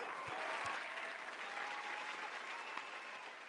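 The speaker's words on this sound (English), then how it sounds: "Can y'all give her a round of applause, please?" An audience at a talk show applauds in a continuous, fairly faint patter of clapping that lasts throughout.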